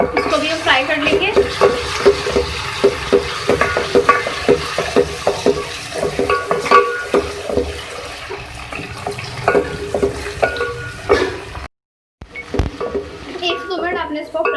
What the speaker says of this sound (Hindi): अब इसके बाद मैं इसमें ऐड करूँगी 1 टेबलस्पून जिंजर गार्लिक पेस्ट। इसको भी हम फ्राई कर लेंगे।